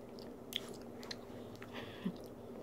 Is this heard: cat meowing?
no